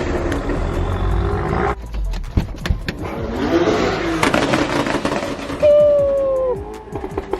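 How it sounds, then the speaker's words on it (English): A loud BMW M4 engine at a crowded car meet roars and revs in strong bursts over a busy crowd murmur, with a sharp rising whine near the end. "This fucking car is so loud."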